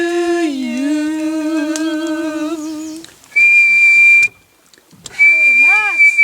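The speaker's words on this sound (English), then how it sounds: "Hey, Max, you're doing a good job on the whistle." A toy whistle sounds in steady, slightly wavering blown tones, then a higher piercing note comes in two loud blasts separated by a short gap, near and prominent.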